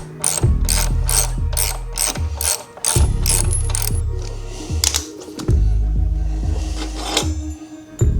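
A ratchet clicks in quick repeated bursts while loosening the rear wheel of a 72v Razor mini moto, close and loud, with short pauses between strokes.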